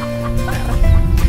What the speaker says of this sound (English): we're coming to you here today with a hen screaming in the background